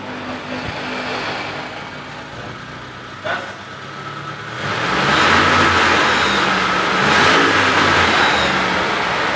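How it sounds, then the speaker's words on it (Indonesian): A car engine idles evenly, then revs up into a sustained, smooth higher drone, eases slightly and climbs again, running cleanly without metallic knocks, loud and close. "kita gas pun seperti ini, kondisi mesin tetap halus, nggak ada suara metal, nggak ada suara yang aneh-aneh"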